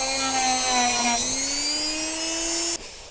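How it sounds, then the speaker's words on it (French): A Dremel rotary tool whines steadily as it smooths the edges of a carburetor intake pipe on a 1984 Honda PX 50 moped, its pitch dipping under load and then rising before it cuts off abruptly near the end. "je vais quand même passer un petit coup de Dremel histoire de lisser les bords"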